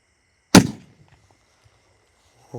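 A single Diwali firecracker bomb goes off with one sharp, loud bang that decays quickly into near silence, then a faint thump or rustle at the very end.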